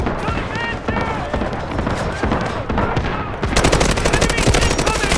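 Gunfire in the video game Delta Force: rapid, loud automatic bursts rattle continuously and grow denser toward the end, with shouting voices mixed in.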